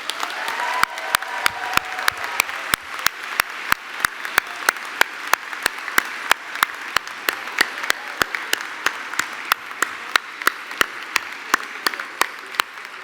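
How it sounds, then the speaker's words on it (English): Applause fills the hall for college staff at a university senior celebration, a steady dense clapping from a large audience that carries on evenly for the whole stretch. "I want to ask you all to give them a round of applause."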